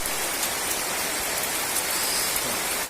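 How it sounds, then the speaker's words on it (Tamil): Steady rain pours down in a village, a dense, even hiss of drops hitting surfaces nearby that continues unbroken before cutting off. "சரி மழை எப்போ விடுன்னு பார்ப்போம்."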